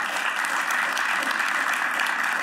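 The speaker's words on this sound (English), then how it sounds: "I think that needs another big round of applause" A conference audience at EV Momentum 2018 breaks into a sustained round of applause for Mate Rimac of Rimac Automobili, with steady, dense clapping filling the room throughout.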